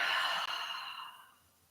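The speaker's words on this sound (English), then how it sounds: "Big breath in, full breath out." A single long, breathy exhale during a yoga session, close and soft, tapering gradually to quiet.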